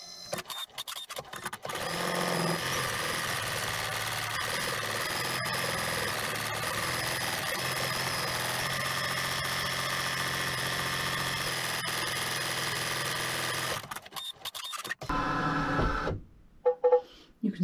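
A sewing machine stitches a zigzag on a crazy quilt, a loud continuous close whirring drone running for about twelve seconds, preceded and followed by brief handling clicks and knocks.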